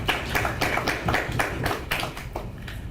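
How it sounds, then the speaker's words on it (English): Audience clapping at a national stakeholders' dialogue on EU directives, a modest, uneven patter of hands at a moderate level, sounding like a smallish room of people, without speech. "A round of applause."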